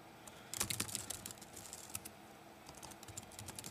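Quick, uneven bursts of keystrokes on a Chromebook keyboard, light and close, with short pauses between the clusters of taps and no speech over them.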